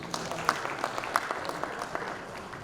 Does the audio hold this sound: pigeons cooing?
no